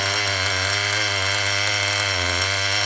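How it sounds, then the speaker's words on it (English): An engine idles steadily after months sitting unused on a shelf, a constant loud buzzing drone with an even, unchanging pitch. "Perfect idle on that."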